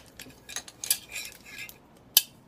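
A spoon or whisk stirs cupcake batter with milk and butter in a bowl. It is heard as a few close, light metallic clinks and scrapes with one sharper clink near the end, and no one speaks.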